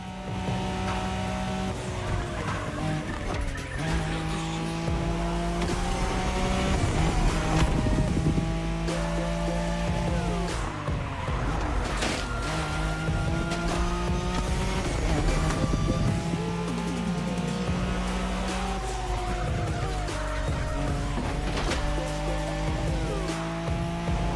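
Nissan Skyline racing in a video game, its engine revving loud and close through repeated rising gear shifts, with tire squeal and skidding, almost no talk.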